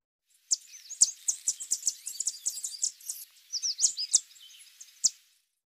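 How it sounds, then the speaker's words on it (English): A yellow warbler sings a bright, high, fast-tumbling song of sweet chips and warbled notes that runs continuously for about four seconds, heard clearly and alone. "Yellow warbler"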